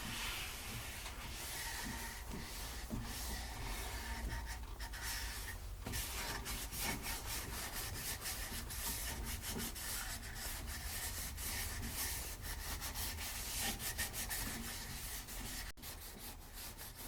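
Sandpaper rubs against an oak bowl spinning on a wood lathe, a continuous soft scratchy hiss with fine gritty strokes that stays close and steady throughout.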